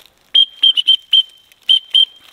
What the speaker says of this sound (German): Dann eine Pfeife.